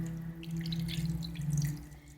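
Water is poured onto grouped houseplants set on gravel. A steady, moderately quiet trickle and splash runs throughout over a low background hum, with no voices.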